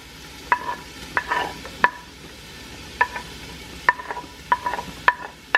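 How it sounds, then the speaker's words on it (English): Vegetables with Anaheim pepper sautéing over medium heat in a pan, heard as a series of sharp, close utensil taps and scrapes against the pan at irregular intervals over a faint background sizzle. "So we're gonna saute all these veggies."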